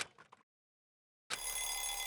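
A short burst of ringing fades out, followed by about a second of silence, then a bright electronic telephone bell in the video game Danganronpa rings again, steady and continuous.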